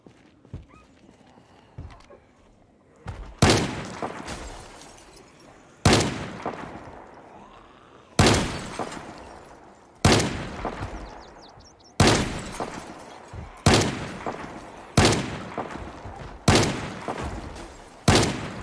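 Gunshots ring out in the zombie survival game Project Zomboid: about ten sharp, loud blasts, sparse at first and then coming roughly every second or two, each with a decaying tail, over faint game ambience.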